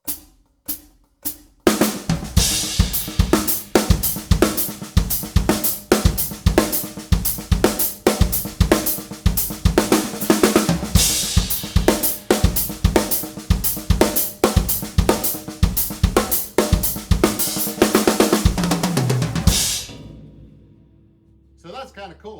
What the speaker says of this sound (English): Instead of playing the Songo starting on beat 1, we're going to start it on beat 3 with that pattern.